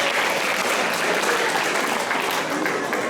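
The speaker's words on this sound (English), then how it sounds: "Please give it a big applause to Ernest and his team." An audience applauds at a Christmas celebration, continuous even clapping filling the room throughout at moderate loudness.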